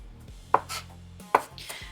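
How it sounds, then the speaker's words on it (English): Two sharp knife strikes on a cutting board chop vegetables for tacos, spaced about a second apart over a quiet low hum. "I'm just gonna chop them up here"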